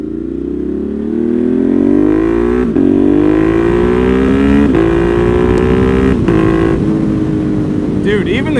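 A Ducati Monster 1200 motorcycle with carbon wheels accelerates hard through several gears, its loud, close exhaust rising in pitch and then dropping briefly at each quick shift.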